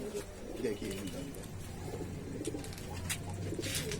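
Low, throaty coos from Kasni pigeons repeat against a noisy, busy background.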